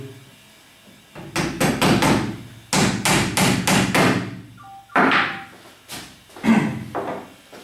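Nails being hammered into the joint of a small wooden salt box, in loud close rapid bursts of repeated blows with short pauses between groups, no talk.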